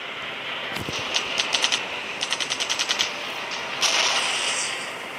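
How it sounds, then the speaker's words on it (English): Missiles and guns firing in the Sky Fighters aerial combat video game: rapid, evenly spaced bursts of loud shots over a steady engine roar, followed by a longer whooshing blast. "I just love to leave missiles and its noise is the best."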